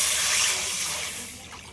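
Water pours into a lightly oiled wok in a home kitchen, a loud steady broadband gush that tapers off gradually over a couple of seconds.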